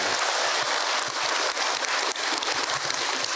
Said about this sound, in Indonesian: Tepuk tangan buat ibu yang ini